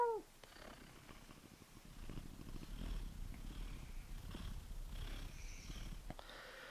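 A voice imitates a cat purring: a low, continuous rumble that starts after a brief higher sound and continues steadily at moderate level, with no other talk.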